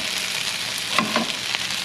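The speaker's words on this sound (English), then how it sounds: "We have our nice big pieces of potato that are fried up in our coconut oil." Big pieces of potato fry in coconut oil in a home kitchen, a steady dense sizzle with a few brief stirring clatters near the middle.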